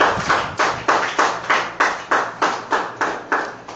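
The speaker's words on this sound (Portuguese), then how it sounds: "Você pode aplaudir ao Senhor por isso?" A church congregation claps in a steady rhythm, roughly eleven evenly spaced loud claps over a few seconds, close and with no voices.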